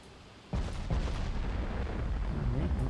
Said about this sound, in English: Looks like we're firing on something.